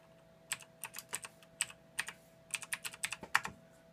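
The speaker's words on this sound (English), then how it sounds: "Love that keyboard." Fingers type on a computer keyboard nearby, giving a run of quick, crisp key clicks in irregular bursts over quiet background hum.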